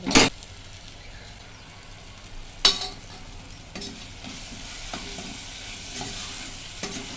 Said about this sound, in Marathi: सगळ्या भाज्या परतून घेऊया व्यवस्थित